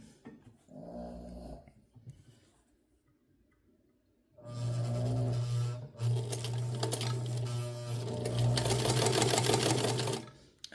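A Hamilton sewing machine with a stuck selector knob sews a blind stitch. A few faint handling sounds come first, then a loud, close, steady motor hum with rapid stitching chatter runs unbroken to the end.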